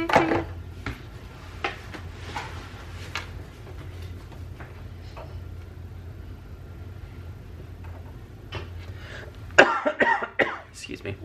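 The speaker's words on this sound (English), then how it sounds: "Cough in the video." Short coughs ring out at the start and again near the end, sharp bursts over a faint steady hum and scattered light ticks, with quieter gaps between.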